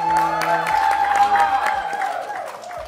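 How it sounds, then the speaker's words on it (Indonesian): Audience applause and some cheering at a talk show event, a steady, moderately loud wash of clapping that carries on through the clip, with a tonal hum underneath. "Boleh tepuk tangan sekali lagi."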